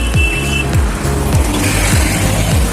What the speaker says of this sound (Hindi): भयंकर ट्रक तो एकदम सामने से चला गया